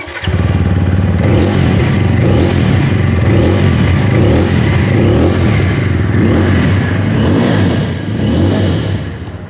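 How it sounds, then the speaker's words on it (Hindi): A TVS Apache motorcycle engine rumbles steadily at idle, a deep throbbing exhaust note with slight rises in revs, loud and close throughout. "चलिए अब देख लेते हैं इसका एग्जॉस्ट"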